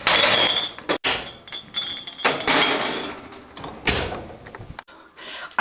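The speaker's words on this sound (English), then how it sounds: "I'm putting my clean jars into a warm oven to sterilise them" Clean glass jars are set into a warm oven in a home kitchen, with clinks of glass, thuds of the oven door and rack, and bursts of handling noise broken by short pauses, close and fairly loud.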